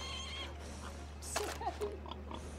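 A horse in Red Dead Redemption II gives a short whinny partway through, a brief rising call over a steady low game hum with faint background noise.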